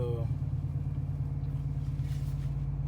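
Hemi V8 of a Chrysler 300 running just after a rough start, a steady low idling rumble that holds evenly throughout, heard close and alone.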